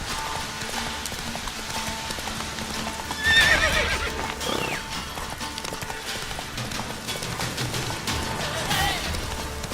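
Geralt's horse Roach gallops through Velen in The Witcher 3, hooves pounding in a fast steady rhythm, with a loud whinny partway through and faint game ambience around it.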